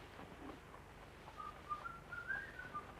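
A man whistles a soft, faint melody of short notes on an old educational film soundtrack, with a low background hiss.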